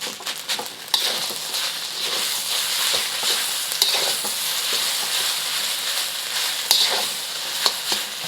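Fried rice with egg being stir-fried in a pan, a steady sizzle broken by scraping clicks and taps of the utensil against the pan, close and alone.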